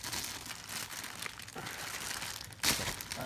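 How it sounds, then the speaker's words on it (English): Sealed plastic packaging for Virtual Boy replacement parts being torn open by hand: steady close crinkling and rustling throughout, ending in one sharp, louder rip near the end. "I guess I'll just tear it open"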